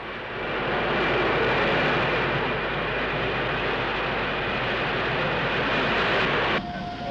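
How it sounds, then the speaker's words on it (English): A Concorde airliner accelerates toward transonic speed, heard as a steady, even roar of engine and airflow noise that holds for several seconds and then shifts slightly near the end. "Concorde begins acceleration into transonic speeds."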